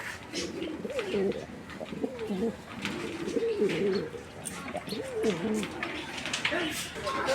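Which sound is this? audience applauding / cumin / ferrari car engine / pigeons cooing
pigeons cooing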